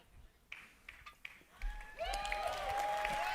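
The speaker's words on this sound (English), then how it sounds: "Give it a round of applause." Audience applause at a live Quest 3 reveal event swells up after a few scattered taps and then holds as a steady, dense wash of clapping from a large crowd, heard at a moderate distance.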